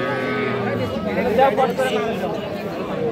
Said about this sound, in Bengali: এই পাশেও একটা ষাঁড় বাছুর দেখতেছি